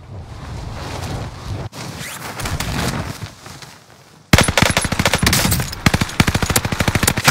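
Sniper rifle fire and other gunfire in a video game heard in a noisy firefight: a muffled stretch of shooting and movement, then a loud burst of rapid automatic fire.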